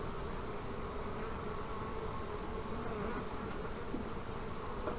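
Swarm of honey bees in an old hive, a dense continuous buzzing drone at steady level, close and unbroken throughout with no talking.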